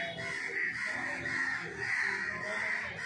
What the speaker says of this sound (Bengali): দেখো কত চিৎকার করছে পাখিগুলো,